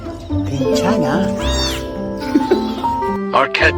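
A pet cat lets out drawn-out, wavering meows and yowls up close, mixed with people talking over and around it, with a few sharper cries near the end.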